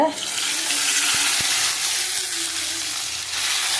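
Spice tempering poured into an Udupi-style jackfruit basale curry sizzles in a loud, steady, close hiss that barely varies and has a couple of faint clicks.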